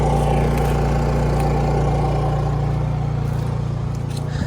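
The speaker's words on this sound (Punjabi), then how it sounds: "ਬੈਟਰੀ ਚਾਰਜ ਵਾਲਾ ਜਨਰੇਟਰ ਆ ਨਾਲ ਦੇ ਨਾਲ ਬੈਟਰੀ ਚਾਰਜ ਹੁੰਦੀਆਂ ਨੇ ਹੌਂਡੇ ਵਾਲਿਆਂ ਦਾ ਚਾਰਜਰ ਜਨਰੇਟਰ ਆ" A Honda generator charges drone batteries beside a sugarcane field being sprayed, its engine holding a loud, steady, close hum with a constant low drone and no voices.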